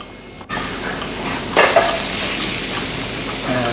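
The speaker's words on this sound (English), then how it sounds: "I love to hear that meat sizzling on the pan." Wild game meat sizzles loudly and steadily in a hot pan, with a brief burst of stirring or scraping partway through.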